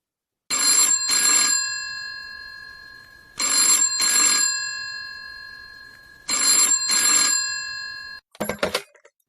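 A telephone bell rings in three double bursts, loud and close, each pair followed by a fading tail, and a short clatter like a handset being picked up at the end.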